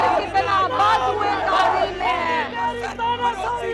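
A dense protest crowd at Jantar Mantar roars nearby, many voices shouting and chanting together in a continuous loud swell.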